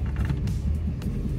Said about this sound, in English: Right into reverse, up into park, see if she'll start.